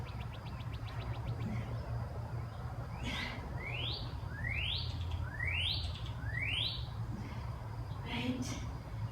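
Birds chirp outdoors in the morning in a short run of rising, whistled calls, moderately close, over a steady background hum.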